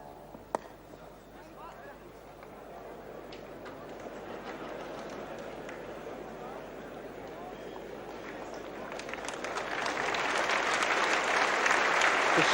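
A big crowd at Lancaster Park during a 1974 New Zealand versus Australia cricket test keeps up a steady buzz with applause, swelling louder toward the end.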